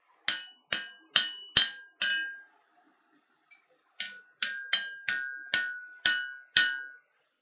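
A hammer strikes metal while a chef's knife is forged. Sharp ringing blows come close and loud, five in a quick series, then a pause and a faint tap, then seven more evenly spaced strikes.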